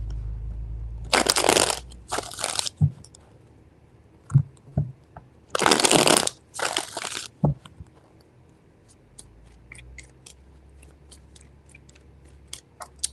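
Tarot cards being shuffled in a few separate bursts, each a crisp riffling rustle, with softer card taps and handling noises in between, close and fairly loud with no voices.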